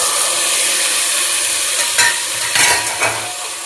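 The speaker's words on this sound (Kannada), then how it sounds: "ಇದನ್ನು ಫ್ರೈ ಮಾಡಿಬಿಡೋಣ." Tomatoes sizzle and hiss in a pan with onions fried to golden, a steady close frying crackle with a few louder stirring scrapes near the end, no talking.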